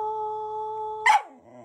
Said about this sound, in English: Teaching my dog how to sing.